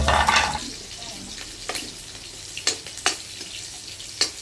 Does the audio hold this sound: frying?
yes